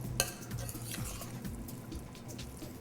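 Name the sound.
stirring parmesan cheese into edamame mushroom risotto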